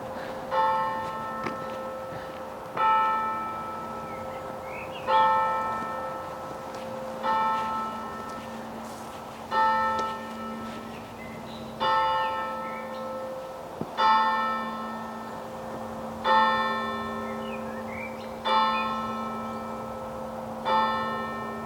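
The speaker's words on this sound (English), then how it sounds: "that was the bell" A church bell tolls the hour at 12 o'clock, striking about ten slow, evenly spaced times. Each clang rings out clearly and fades into a lingering hum before the next stroke.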